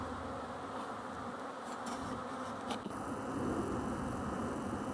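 Honey bees buzz steadily around bench-style hive sheds, a dense continuous drone holding at an even moderate level throughout.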